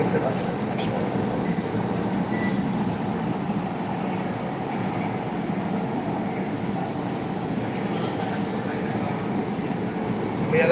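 Kolkata Metro Purple Line train running, heard from inside as a steady, continuous rumble and rolling hum throughout, with people talking faintly in the background.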